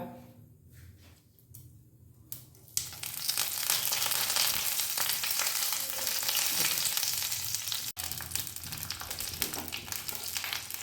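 Dried chillies, curry leaves and mustard seeds fry in hot mustard oil. After a few quiet seconds a loud, steady, close sizzle starts and crackles on continuously.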